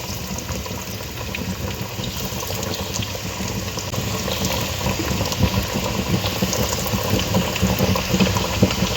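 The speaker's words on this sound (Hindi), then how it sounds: "तेल गर्म हो गया, अब मैं नगर्स इसमें डालती हूँ और ऐसे तलते हैं इसको।" Homemade chicken nuggets fry in hot oil over low heat, giving a steady, dense bubbling crackle that stays close and continuous, building slightly louder toward the end with no voices.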